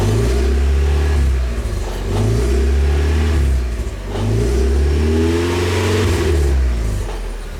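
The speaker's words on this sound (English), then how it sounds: "First start, guys. Give it some gas." A 1991 Mazda Miata engine at its first start after a build, revving loudly and close in repeated rising and falling blips of throttle over a steady idle.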